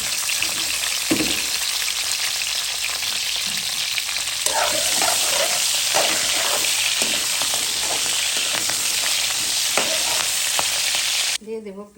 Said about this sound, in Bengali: কপিটা একটু ভেজে নেব এই মাছের তেলে।